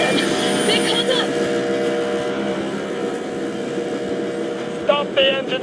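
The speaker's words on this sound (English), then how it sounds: "Stop the engine immediately and come out with your hands above your head." A vehicle engine drones steadily in the game Metro Exodus, a loud continuous hum with tonal layers, joined near the end by a brief voice over the engine.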